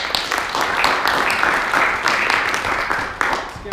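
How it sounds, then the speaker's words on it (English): Audience applause at a student Toastmasters meeting, dense steady clapping from many hands filling the room, sustained throughout with a brief voice underneath. "Let's give another round of applause for Toastmaster today."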